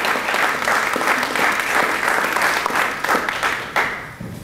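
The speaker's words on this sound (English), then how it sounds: "Let's have a round of applause for all of the recipients." Sustained audience applause at a community donation event fills the room for several seconds, steady and dense, fading slightly near the end, with no speech over it.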